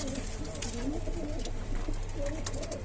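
Bango pigeons coo steadily at close range in a loft, a continuous soft throaty murmur of overlapping calls with no talking.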